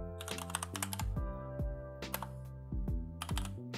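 Rapid keystrokes on a computer keyboard clatter in quick irregular bursts with short pauses between, close and clear, over a faint low hum and no voices.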